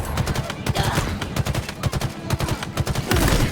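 Rapid bursts of battle rifle fire crack in the Halo video game, loud sharp shots in quick clusters with heavier grenade-like blasts mixed in toward the end.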